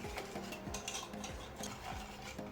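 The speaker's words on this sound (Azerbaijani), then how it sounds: "Sütü əlavə etdikdən sonra karıştırırıq" A spoon stirs milk, cocoa and sugar together in a pot for a chocolate cake cream, producing soft, rhythmic scraping strokes repeated at close range with no voices.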